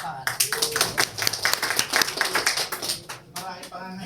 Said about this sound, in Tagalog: Hindi nga, palakpakan.